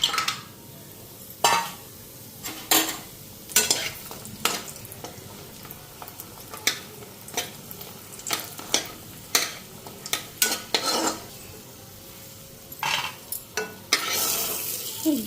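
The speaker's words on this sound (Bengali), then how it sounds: "বড়িগুলি ভেজে নিই।" Sun-dried lentil dumplings (bori) fry in hot oil in a kadai, a steady sizzle under repeated sharp scrapes and clinks of a spatula stirring against the pan, close up and with no talking.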